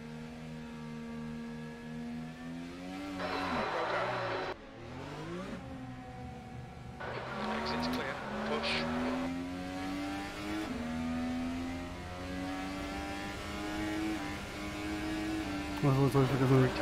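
An IndyCar race car engine in the rFactor 2 racing game screams at full throttle around the Iowa oval, a continuous whining tone that rises and dips with gear changes, heard under someone talking.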